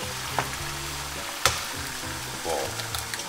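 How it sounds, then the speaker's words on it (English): Steak sizzles loudly and continuously in a very hot pan. A couple of sharp clicks and a knock sound partway through, and no one talks. "So pan's very, very hot. Let's give this bad boy steak on that."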